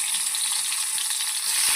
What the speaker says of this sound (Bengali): অর্ধেক অর্ধেক করে ভেজে নেবো, সবটা দিলে হবে না, এটা আবার আরেকবার ভাজবো।